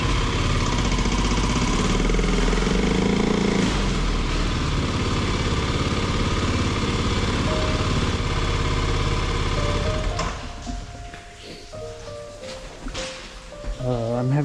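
A motorcycle engine idles steadily and loudly for about ten seconds on an icy tunnel approach, then drops away and fades, leaving quieter clatter and thin tonal sounds.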